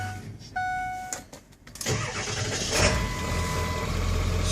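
A 2002 Ford F350 pickup with a 7.3L Powerstroke turbo diesel cranks briefly and fires up loudly nearby, settling into a steady rumbling idle after a few electronic beeps.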